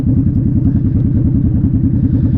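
Honda Shadow motorcycle cruising on a road, its engine giving a loud, steady low rumble with a fast regular pulse close to the rider, continuous throughout with no speech.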